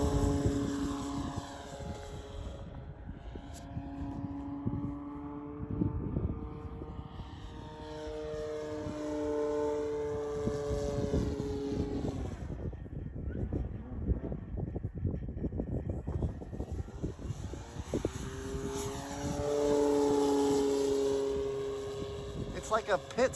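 A 10cc Hangar 9 J-3 Cub RC model airplane drones overhead in flight, its engine pitch rising and falling as it passes and maneuvers, with someone talking over it partway through.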